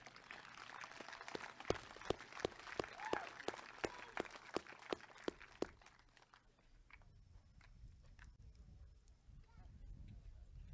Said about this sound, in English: Another round of applause for Thane Tenney.